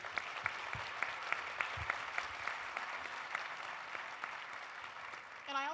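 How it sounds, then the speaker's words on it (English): Sustained applause from an audience at a community breakfast, a steady wash of many hands clapping at moderate distance with a few sharper claps standing out, holding evenly for several seconds before tapering. "let's go ahead and applaud"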